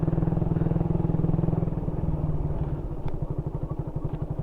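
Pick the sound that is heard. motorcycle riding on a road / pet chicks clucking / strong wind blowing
motorcycle riding on a road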